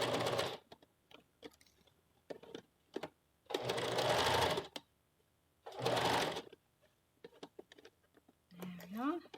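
A domestic sewing machine stitches puff sleeves into a blouse in three loud, close bursts of rapid mechanical whirring, separated by quiet pauses with small clicks and a brief voice at the end.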